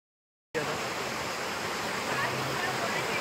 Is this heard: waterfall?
yes